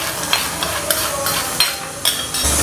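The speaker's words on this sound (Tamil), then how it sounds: "தேங்காய் நல்லா பல்லு பல்லாக வறுத்துட்டேன்" Coconut pieces being roasted in a pan for payasam, a continuous sizzle broken by repeated scraping stirs of a spoon against the pan, close and fairly loud.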